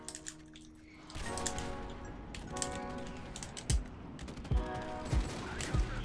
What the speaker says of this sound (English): Ah, teammates calling on the airstrike.